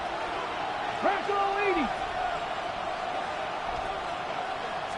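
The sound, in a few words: football stadium crowd cheering before a 3rd down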